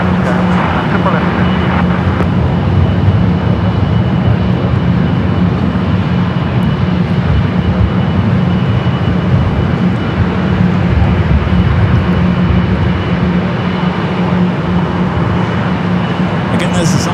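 An Austrian Airlines Boeing 777-200ER, 24 years old, departing runway 24 Left at LAX for Vienna, heard as a loud, steady engine roar that fills the whole stretch, with someone talking over it.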